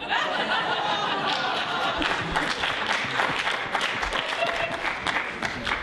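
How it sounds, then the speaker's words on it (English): Audience cheering and applause at a staged comedy or song performance, a dense continuous wash of clapping mixed with chatter and some laughter, moderately loud throughout. "gather round and give a cheer for the fairly average sample space confab"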